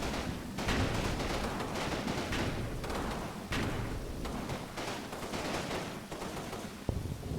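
Rifle and machine-gun fire crackles continuously in the Combat Mission: Battle for Normandy video game as troops storm a German hedgerow line, dense overlapping shots and thumps at mid distance without talking.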